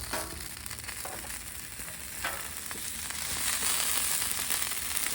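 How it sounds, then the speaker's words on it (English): Bacon strips sizzle and spit on a Blackstone flat-top griddle, a steady dense frying hiss with scattered crackles that swells slightly louder toward the end, heard close with no talking. "Let's put the bacon on the grill."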